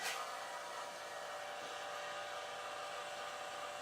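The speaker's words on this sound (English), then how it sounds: "now I'll turn the vacuum pump back on" A vacuum pump runs in a plasma-in-a-vacuum setup with a fine wire, a steady, even mechanical hiss and hum that holds constant from start to finish.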